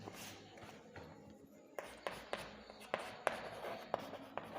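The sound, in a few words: writing by hand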